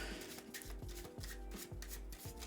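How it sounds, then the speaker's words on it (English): A deck of playing cards is shuffled in a quick series of soft riffling and rubbing bursts, close and fairly quiet. "I will even then give the cards a shuffle as well."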